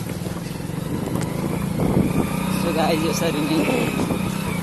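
Motorcycle engine droning steadily while riding a rough, bumpy road, with someone talking over it throughout and rattling jolts mixed in.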